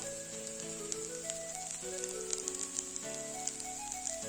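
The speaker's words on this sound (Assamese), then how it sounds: "মই আলুখিনি কম তেলত ফ্ৰাই কৰি আছোঁ" Potatoes sizzle and crackle steadily in a little hot oil, a continuous close-up fizz with scattered pops, while soft background music plays.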